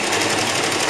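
Sewing machine running steadily as it stitches a fabric wipe, a continuous rapid mechanical whir with fast even needle pulses, close and alone.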